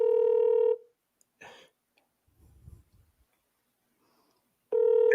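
Telephone ringback tones during an outgoing call: a loud ring burst, a long silence with faint rustling, then the next ring starting, close and clear.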